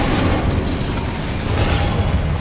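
A Confringo blasting spell going off in Hogwarts Legacy, a dense, loud, continuous roar of fiery explosion and rumble filling the whole moment without a break.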